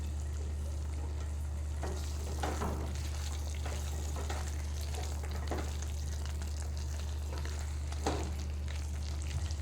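Coconut potatoes with dried oregano sizzle steadily in a pan while a spoon scrapes and stirs every couple of seconds, close and fairly quiet over a low, constant hum.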